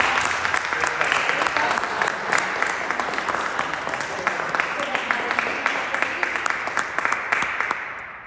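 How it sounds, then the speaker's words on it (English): An audience at a school theater performance breaks into a sustained round of applause, dense steady clapping lasting about eight seconds before tapering off slightly at the end. "Give a round of applause."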